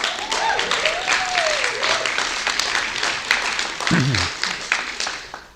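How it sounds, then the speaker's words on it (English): Audience applause fills the room at a district community meeting, a steady wash of many hands clapping with a voice speaking faintly underneath. "give yourselves a round of applause, but you already did that"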